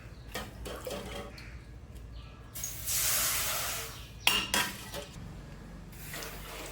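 Six tumblers of water poured steadily into a metal pot for kesari for a couple of seconds, surrounded by soft clinks of utensils and cookware, close and quiet.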